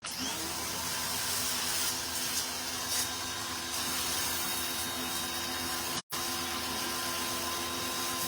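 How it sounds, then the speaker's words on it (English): Pressure washer blasting sixty years of mud off the inner cabinet of a Vendo 81 vending machine: a loud, steady hissing roar that runs nearly the whole time, broken once by a brief cutoff. "See if we can get the pressure washer on it."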